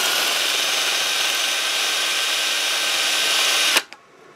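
A power drill bores into a stripped hex bolt in one steady, loud high-pitched whine lasting several seconds, then stops abruptly with a click and brief rattle.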